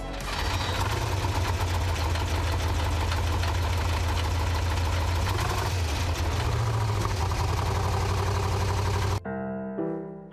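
The 1937 Tatra T87's air-cooled V8 overhead-cam engine runs steadily with a low, even throb and some mechanical clatter, loud and close, then cuts off abruptly near the end.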